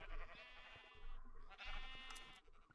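Sheep in a blocky farming video game bleat in two repeated, wavering calls, close and fairly loud, with no talk over them.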